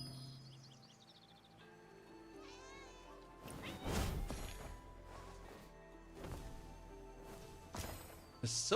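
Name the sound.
cat meowing in the Where Winds Meet video game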